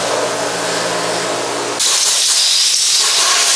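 Compressed air blasts a rebuilt Mitsubishi Evo 8 car part in a loud, harsh hiss close by, growing brighter and stronger partway through, with no talking.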